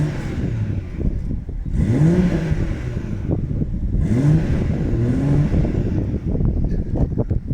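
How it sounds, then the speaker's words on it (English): A BMW M140i engine revs up twice, rising and falling in pitch each time, loud and close, with a rough idle rumbling between the revs. "let's give it a couple of revs"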